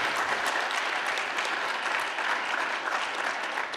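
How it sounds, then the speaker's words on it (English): Audience claps for a presenter at a business pitch event, a dense, even round of applause sustained the whole time, moderately loud and with no talking over it. "Give him a round of applause."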